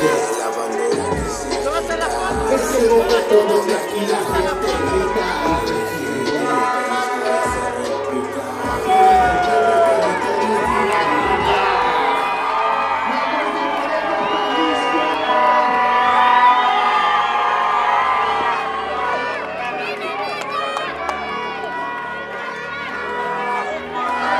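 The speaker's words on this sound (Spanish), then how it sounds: "Es el momento donde aquí la gente grita" At a live concert, a big crowd shouts and cheers in a long, loud roar of mixed voices and whoops that keeps swelling and easing, with music and amplified vocals underneath.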